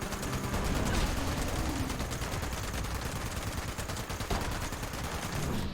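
Rapid automatic gunfire from a Mr. Gutsy robot in Fallout 76, a dense, continuous stream of shots with game ambience, loud and steady throughout without talk.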